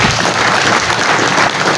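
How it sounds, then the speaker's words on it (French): Dense, steady applause fills a New Year ceremony with an archbishop as the audience claps for the senior sister, loud and continuous with no voices above it. "On applaudit pour elle."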